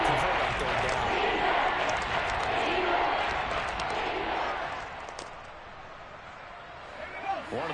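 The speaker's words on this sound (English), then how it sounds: "the crowd getting into it as we come up on a big 3rd down" A football stadium crowd roars ahead of a big third down, a broad sustained wash of cheering that fades slightly toward the end, with commentary talking over it.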